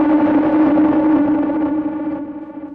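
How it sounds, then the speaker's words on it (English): An eerie horror synth patch made in Vital, with oscillators pitched in opposite directions by an LFO so the tones clash. It is a loud, sustained droning chord with wavering pitch that thins out toward the end. "So now they are really clashing against each other, again creating more tension."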